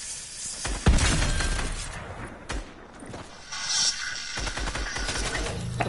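Shotgun blasts in a multiplayer shooter video game: a sharp, loud close shot near the start, then further cracks and bursts mixed with shattering and clattering game effects, with no talking.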